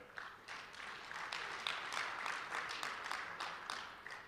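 Applause from a conference audience at a SANTACO gathering, a sustained spread of many hands clapping at moderate distance for several seconds, fairly faint overall.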